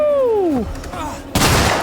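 Gunfire in the sci-fi survival horror game Alien: Isolation: a single sharp, loud burst near the end, after a falling vocal-like whine and shouting.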